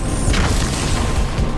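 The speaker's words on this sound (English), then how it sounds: "Grenade right there." A grenade explodes in the video game Halo 2, a loud booming burst with a rumbling tail and crashing debris that fills the short moment.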